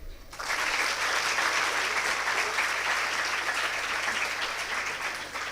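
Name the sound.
graduates clapping at a graduation ceremony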